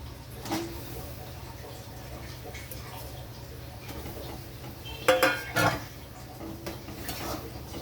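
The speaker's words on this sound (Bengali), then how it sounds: "এবার আমি দিয়ে দেবো মাছগুলো।" Pomfret fish pieces go into a pan of tomato with clattering metal clinks and scrapes of utensils against the pan, over a low, steady sizzle.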